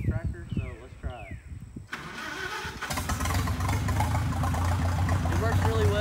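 Someone speaks briefly before a tractor's engine, started by a remote ignition transmitter and receiver, cranks and catches, then settles into a steady, loud idle that continues alone to the end.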